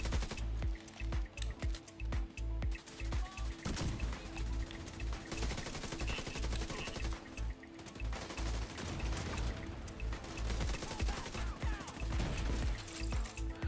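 Heavy gunfire and grenade explosions from The Division 2 video game rattle continuously and loudly, with rapid bursts, booms and crashes layered densely throughout, no talking.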